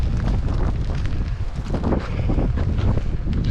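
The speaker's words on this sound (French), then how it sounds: "Là, on a le vent de face." Strong headwind buffeting the microphone outdoors, a continuous loud rumbling roar with gusty low-end surges and no other clear sounds over it.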